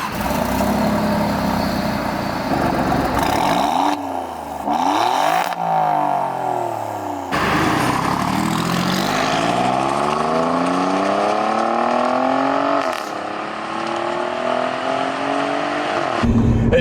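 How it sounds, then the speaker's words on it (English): A 2017 Alfa Romeo Giulia Quadrifoglio engine revs hard and loud, its exhaust note climbing and falling through repeated throttle sweeps and gear changes, close and continuous with no talk over it. "that exhaust note is already very, very good, and I haven't touched the race mode yet"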